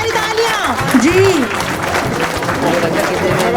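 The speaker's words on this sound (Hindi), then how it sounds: "बहुत सारी तालियां जी" Audience clapping for the musical chairs winner at a family gala, crowd applause blended with loud amplified music and some voices, steady and dense throughout.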